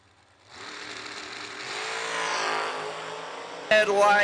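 A drag racing dragster engine roars up loud and sustained from near silence, its pitch climbing as it revs, followed by an abrupt sharp burst of even louder engine noise at the end.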